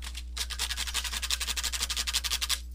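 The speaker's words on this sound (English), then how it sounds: "Yes, I have a beater rack, and that's what you're hearing" A paintbrush beaten rapidly against a beater rack, with the microphone mounted on the side of the rack, giving a steady run of about twenty brisk, close scraping strikes over a low electrical hum, with no talking.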